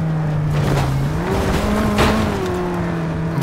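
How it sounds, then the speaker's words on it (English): A car in Cyberpunk 2077 plows through piles of trash, its engine droning and shifting pitch up and down while debris rattles and scrapes against the body, loud and continuous. "Literally driving through piles of trash, man."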